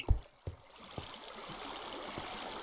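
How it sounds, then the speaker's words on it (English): Water flows and trickles steadily in the Minecraft game, a soft continuous stream with a few dull thumps near the start. "The water is too deep to traverse safely."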